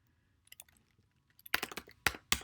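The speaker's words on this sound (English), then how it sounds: "and type out my text" Computer keyboard typing: a few soft taps at first, then two louder bursts of quick, clustered keystrokes close up, with no voice.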